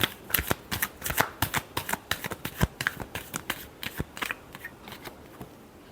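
Tarot cards are shuffled by hand close up, a quick run of crisp, riffling flicks and slaps in an uneven rhythm, fairly quiet with no talking.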